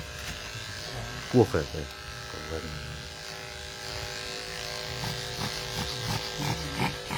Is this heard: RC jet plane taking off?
no